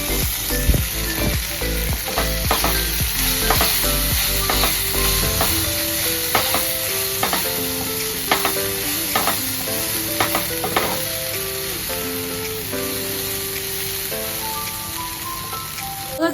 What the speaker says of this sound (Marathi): ह्या तेलामध्येच आपली गवार टाकून घेऊया, तिला पण परतून घेऊया.